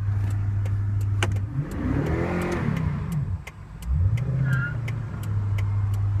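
A 2008 Toyota Tundra pickup, its engine surging in neutral with a suspected sudden-acceleration fault, idles steadily and then rises and falls in two swelling revs, heard close up from inside the cab with faint clicking in the background.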